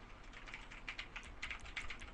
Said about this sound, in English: What the hell are you typing?